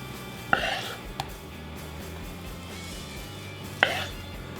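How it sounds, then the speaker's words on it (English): A knife cuts through a roasted pork loin on a board, two sharp cutting strikes about three seconds apart with a faint tap between them, set against quiet room noise. "Now it's entirely up to you how thin or how thick you slice this."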